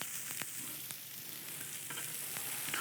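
Atlantic salmon kebabs fry in a pan, giving a steady bright sizzle throughout with a few sharper pops and crackles, close and continuous with no voices.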